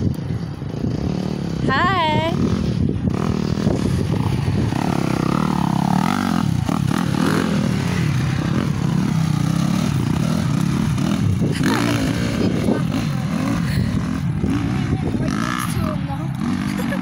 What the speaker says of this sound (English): There's people on quads coming up here. No, not quads, they're bikes.